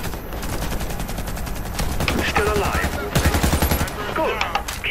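A G36 rifle in the shooter game Warface rattles off rapid, evenly spaced automatic shots in sustained bursts, close and loud, with a voice talking over the gunfire at times.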